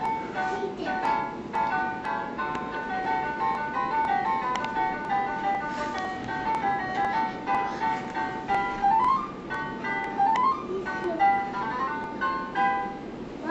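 Toddler around two playing a music box, its bright tinkly tune repeating steadily in the foreground over a busy room hum.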